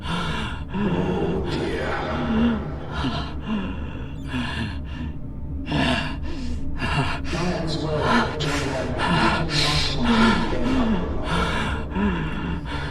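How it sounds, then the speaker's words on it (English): A female character in The Expanse video game breathing in heavy, strained gasps and sighs, repeated in an uneven rhythm, close and loud, with game sounds in the background. "Girl, stop all this damn breathing."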